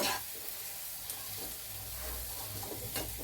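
Spice paste (masala) frying in oil for soya chunk keema, a soft continuous sizzle with a few light stirring scrapes, fairly quiet and alone.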